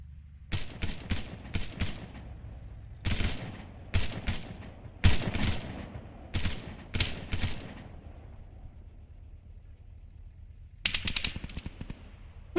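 Rapid automatic gunfire in a first-person shooter game, loud bursts of close shots in several clusters separated by short quiet gaps, with no talking over them.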